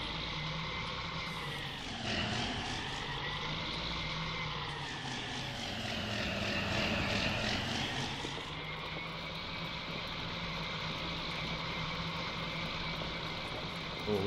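Tractor engine droning steadily in Farming Simulator 19, working over a slurry-spread field, a continuous loud hum that rises and falls in pitch as it revs, with no voices.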